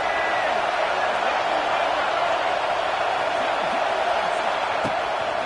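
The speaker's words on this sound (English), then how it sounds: "Decibels rising as the crowd gets behind this defense on 3rd down." A stadium crowd at a Clemson vs Duke college football game roars steadily behind the defense on third down, a dense, constant wash of cheering with a commentator talking over it.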